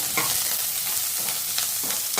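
Onion, green chili and curry leaves frying in hot oil while being stirred: a continuous close sizzle broken by a few scraping stir strokes, with no talk.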